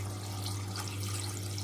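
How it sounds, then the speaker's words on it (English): Tap water streams steadily into a pasta pot, a constant close hissing rush with a low hum underneath and no talk. "So I'm going to fill it up with water"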